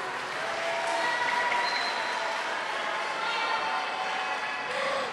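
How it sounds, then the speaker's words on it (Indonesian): Applause from an audience in a hall at the close of an Indonesian talk program on religion and pesantren, a steady dense wash of many hands clapping throughout, with faint voices beneath. "Sekali lagi boleh tepuk tangan untuk para narasumber kita."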